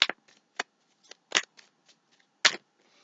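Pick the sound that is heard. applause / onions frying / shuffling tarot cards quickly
shuffling tarot cards quickly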